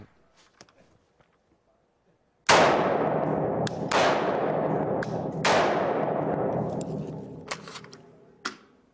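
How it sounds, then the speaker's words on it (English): AR-15 rifle fired at a target outdoors on a range: a handful of sharp, loud shots spaced irregularly, each with a long ringing decay, following a quiet lead-in. "So I'm going to shoot it real quick so that you can see the impact in the target that it will make."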